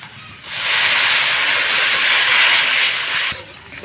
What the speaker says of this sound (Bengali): অল্প করে জল দিচ্ছি, বাটা মশলার জল